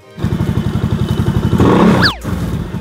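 A small pit bike engine idles and putters in a fast, steady chug, revs briefly louder, then drops back to idle, close by.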